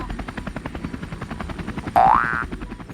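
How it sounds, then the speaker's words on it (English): A helicopter's rotor chops in fast, steady pulses throughout, and near the end a springy rising boing cuts in over it. "Helicopter."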